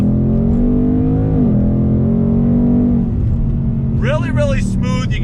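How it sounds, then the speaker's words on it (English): A 2021 Ford Mustang GT with a naturally aspirated engine accelerates from a slow roll, its loud close engine rumble climbing in pitch and revving hard, with a brief burst of higher rising tones near the end. "Still on this Mustang GT, doing a slow roll. On throttle, here we go."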